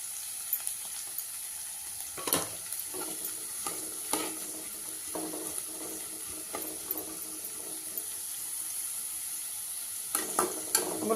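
Onion and green chillies fry in a pan with chana dal and urad dal, a constant light sizzle broken by irregular scraping stirs, fairly quiet and close, with no talking.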